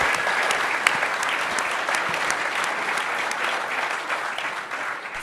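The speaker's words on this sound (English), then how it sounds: "Give the commissioner a big round of applause." Steady applause from an audience fills a press conference with the mayor and NFL commissioner, dense, even clapping with a few sharper close claps, lasting throughout at moderate level.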